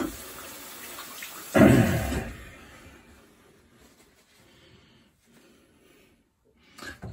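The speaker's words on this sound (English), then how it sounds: "So we'll do a quick rinse." A tap runs briefly for a rinse after a wet shave, a short loud gush of water from a faucet. It fades into quiet room tone with faint small noises afterward.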